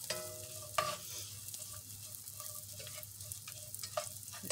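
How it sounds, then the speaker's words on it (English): Pork chops simmer in a pan with a steady soft sizzle, a utensil clinking and scraping now and then, close and quiet, with no talking. "Just let this simmer a little bit here"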